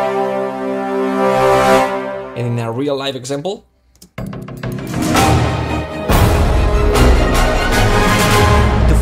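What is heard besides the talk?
orchestral crescendo using double push expression and modulation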